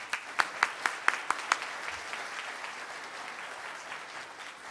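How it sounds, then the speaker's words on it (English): A Rotary Club luncheon audience gives a round of applause, opening with a few sharp distinct claps before settling into a steady, moderately distant wash of clapping that continues evenly to the end. "Let's give them all a round of applause."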